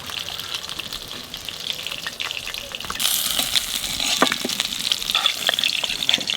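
Cumin seeds fry in hot oil with a steady crackling sizzle that grows louder and brighter about halfway through, close and unbroken, with no talk.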